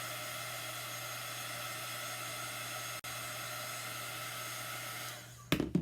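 A handheld dryer blows steadily over chalk-painted craft work, a close, even whooshing whine that continues for several seconds, then cuts off, followed by a few brief knocks.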